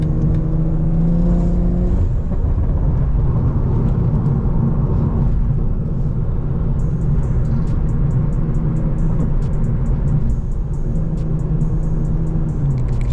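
Interior of a BMW M340i on the road, a heavy low rumble and engine hum with a faint rhythmic ticking layered on top, caused by a wheel that makes the passenger seat shake; steady and loud, no talk.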